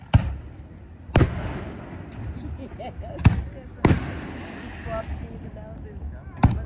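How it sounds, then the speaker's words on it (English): Sharp, booming firework blasts go off one after another, about five in under seven seconds, with a low crackling rumble and distant crowd noise between bursts. "And we get Citizens fireworks over Prospect Hill also."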